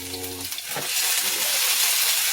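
Sausage, onion and potato frying in olive oil in a skillet: after a brief low hum, a loud, close sizzle swells up and holds steady as a dense crackling hiss.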